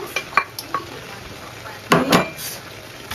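Cooked mixed vegetables stirred in a pan, with light scraping clinks early on and two louder utensil scrapes near the end.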